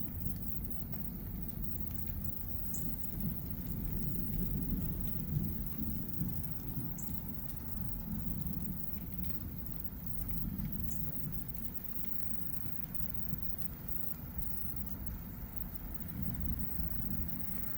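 Thunder rumbles low and continuously through a storm, a deep, eerie roll lasting many seconds with a faint patter of rain over it, and no voices.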